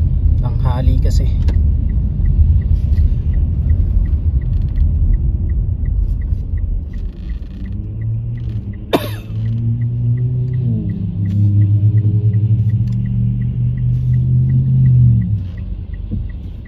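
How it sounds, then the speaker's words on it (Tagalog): Busy midday downtown traffic in Canada, with many cars: a constant low rumble of engines, and one vehicle's hum swells louder nearby before easing off. "Busy po dito ngayon sa downtown. Daming mga sasakyan."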